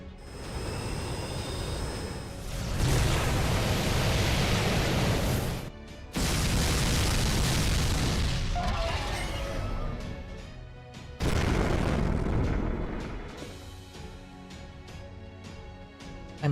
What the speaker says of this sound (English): Evasive action is initiated with all secondary guns firing.